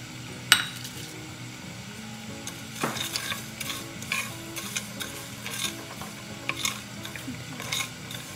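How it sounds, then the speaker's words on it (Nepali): Spices roast in a pan with a steady low sizzle and occasional scrapes and clinks of a stirring utensil against the metal, moderately close and fairly quiet throughout. "अघि मैले तपाईँलाई देखाएको यो मसालाहरू म रोस्ट गर्नेछु अलिअलि भुट्नेछु"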